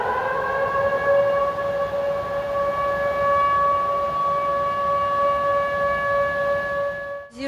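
A civil defense siren sounds in Sochi during river flooding at night, a loud sustained wailing tone holding steady for several seconds before stopping, with no talk.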